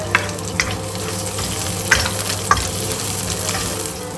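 Onion and garlic frying in oil for spicy chicken feet adobo, a loud continuous sizzle punctuated by several sharp clicks and scrapes of a spatula against the pan, without speech.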